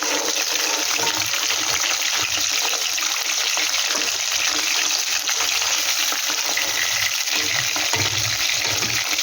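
Hilsa fish frying in hot oil in a pan for a Bengali mouri ilish recipe with fennel, a steady loud crackling sizzle throughout with no voices.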